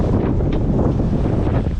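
Strong headwind of about 20 knots buffets the microphone aboard a sailboat near Simi, Greece, a steady loud roaring rush with gusty swells and no pauses, water noise mixed in underneath.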